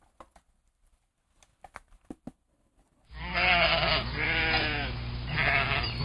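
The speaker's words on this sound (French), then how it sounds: "Bon, ça, c'est pas des chèvres, c'est des moutons." Sheep bleat loudly and close in a long wavering call, preceded by a few seconds of soft scattered taps and patter.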